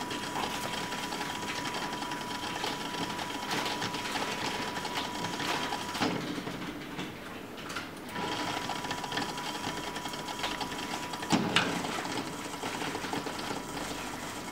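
A small DC motor under Arduino PWM speed control whirs steadily with a busy mechanical rattle, briefly dipping and changing around the middle as it switches rotation direction, then running on at a constant level.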